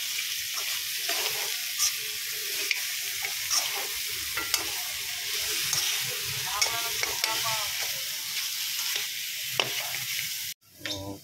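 Meat fries in a little oil for pancit bihon, a dense continuous sizzle with scattered clinks and scrapes of stirring, close up and steady before a brief cut near the end.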